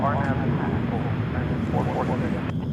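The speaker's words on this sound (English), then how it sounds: "Flight 1365 to Memphis was what we just witnessed, and that is a plane." A plane at DFW Airport, a flight bound for Memphis, passes with a steady broad roar of engine noise that fills the whole stretch, loud and constant, as people talk faintly beneath it.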